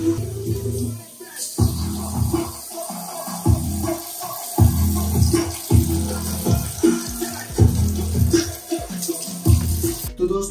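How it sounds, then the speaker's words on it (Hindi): Water splashing and trickling over a Mivi Octave 3 Bluetooth speaker during a deep water test, steady running and gurgling with repeated surges, close by, with no talk. "अब हम डीप वाटर टेस्ट करेंगे।"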